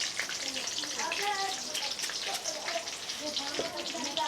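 Whole spices (small and black cardamom, cloves, cinnamon, fennel, cumin, panch phoron) fry in oil with a soft, dense crackling sizzle, like light rain, while a voice talks over it.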